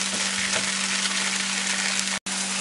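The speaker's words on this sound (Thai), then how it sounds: "อันนี้ก็จะคั่วเห็ดจนแห้งเช่นกัน" Oyster mushrooms dry-roasting in a hot pan give off a steady, dense sizzling hiss close by, with a very brief break near the end and no talk.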